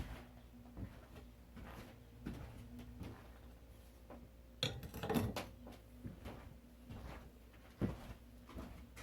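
A metal dehydrating shelf is slid and fitted into a wood-burning rocket stove baking oven, giving quiet scrapes and a cluster of metallic clanks midway, with another knock near the end in a hushed room.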